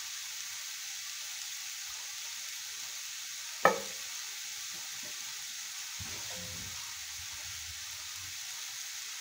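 Water poured into a pan of sizzling vegetables for a vegetarian Nepali dish: a low steady hiss of frying, a sharp crackling burst as the water hits, then a softer bubbling sizzle settling in.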